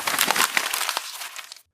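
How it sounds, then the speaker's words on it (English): Sheet of paper being crumpled by hand, a dense run of crisp crackling rustles lasting over a second and a half before cutting off abruptly, close and fairly loud with no voices. "crumpled paper"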